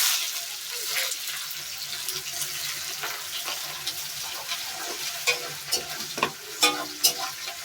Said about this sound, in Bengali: পেঁয়াজটা ভাজা হচ্ছে, দেখো পেঁয়াজটা ভাজা হচ্ছে কড়াইতে।